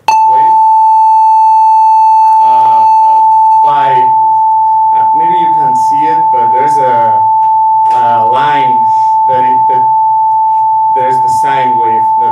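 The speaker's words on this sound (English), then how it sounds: "And right now I'll just start with a basic sine" A steady, loud basic sine wave tone from the ReactPad synth app holds unbroken throughout, with someone talking over it the whole time.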